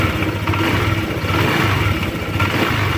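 A motorcycle engine warming up with fresh oil revs steadily at close range, its throttle rising and falling in a continuous mid-pitched roar with no voices.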